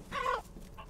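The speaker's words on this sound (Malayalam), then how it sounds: "അതേ കോഴി" A chicken clucks in Resident Evil 8, a single short burst up close followed by a softer second call, with no talk over it.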